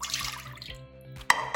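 Milk poured into a saucepan for eclair choux pastry, already holding salt, sugar and water, gives a soft close liquid trickle that fades, followed by a brief sharper splash or clatter near the end.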